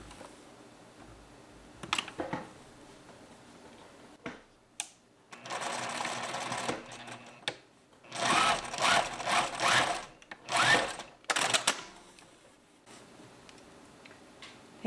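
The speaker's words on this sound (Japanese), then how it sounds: "ポケット口の端を縫います。" Sewing machine stitching along the pocket-opening edge of a reversible poncho, running in several short, close bursts with quiet gaps in between and no talk.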